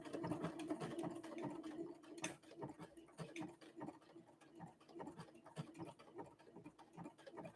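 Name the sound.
Brother Innovis 1500D sewing machine stitching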